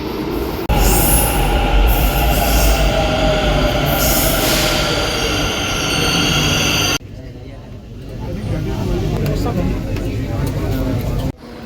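Loud metro train rumbling and rolling along the tracks with squealing wheels, then a sudden drop to a quieter hum as a door or tunnel cuts it off.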